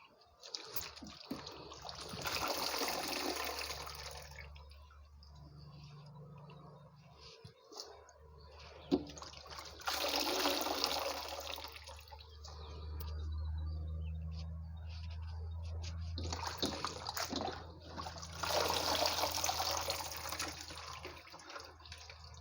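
Mushrooms being lifted out of a pot of water while preparing mushroom naem, giving repeated bursts of dripping, trickling and splashing water over a low steady hum, close by, with no talking.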